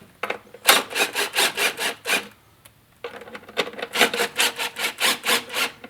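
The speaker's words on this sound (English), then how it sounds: "we're basically gonna be tapping that one ourselves as we drive it in" A bolt is driven and self-taps into the plastic coolant inlet of a Ford 4.6L V8 intake manifold, giving close, rhythmic rasping strokes in two runs separated by a short pause.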